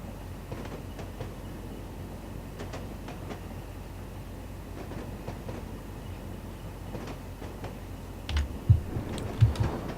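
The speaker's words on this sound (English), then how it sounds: "we can see 47406 coming up with a short demo freight" A class 47 diesel locomotive hauls a short freight train in a train simulator game, a steady distant rail rumble with faint clicks, then a few louder knocks near the end.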